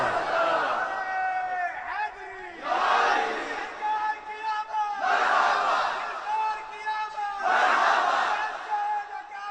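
A crowd chanting religious slogans in unison, rising in loud, roaring bursts roughly every two and a half seconds, each call swelling and then fading before the next.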